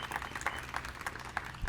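Modest applause welcomes a guest speaker, Professor Hilal Ahmad, at a talk, heard as a brief, fairly faint run of scattered claps from an audience.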